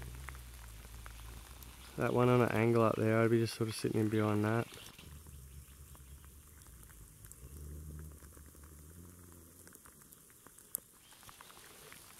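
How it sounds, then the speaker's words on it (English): Heavy rain drumming outdoors during a summer sambar hunt in the bush, a steady close patter that runs throughout while someone speaks over it. "Last one before I go, while this freaking rain's hammering me."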